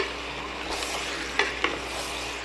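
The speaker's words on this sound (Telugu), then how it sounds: "మంచిగా కలుపుతున్నాం" Aloo chicken curry is stirred in a frying pan, its steady soft sizzle broken by two sharp clinks of the spoon against the pan.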